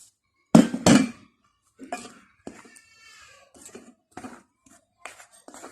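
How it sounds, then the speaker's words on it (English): Dry pancake ingredients of flour, nutmeg, salt and baking powder mixed in a bowl, heard as a series of sharp close clinks and scrapes of a utensil against the bowl, spaced irregularly with quiet gaps. "we're going to mix our dry ingredients with the flour"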